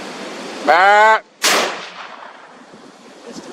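A single loud, close gunshot during a hunt, a sharp blast followed by a decaying rumble, preceded by a brief tonal call and then fading to quiet.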